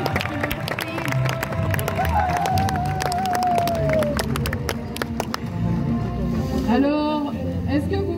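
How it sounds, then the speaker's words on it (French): An outdoor audience at a knights' tournament in Blandy claps and cheers, a mixed crowd noise with scattered handclaps and voices. Someone speaks over it throughout. "On peut les applaudir s'il vous plaît."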